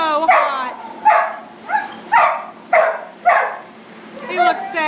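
Dogs bark in a kennel on a very hot day, about 110 degrees: a run of about six loud, close barks and yips comes at a steady, uneven pace with whiny tones between them.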